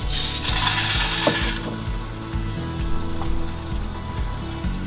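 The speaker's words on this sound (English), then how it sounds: "Turn on our motor." A popcorn machine's kettle motor runs with a loud, regular ratcheting clatter of gears that repeats in a steady mechanical rhythm, heard nearby.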